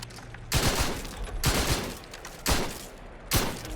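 Burst-fire gun in The Outer Worlds, four sharp bursts of rapid shots spaced about a second apart, loud and close with short quiet gaps between.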